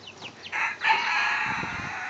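Chickens in a farm coop, with a rooster's crow rising and holding over soft clucking, close and fairly loud, with no voices.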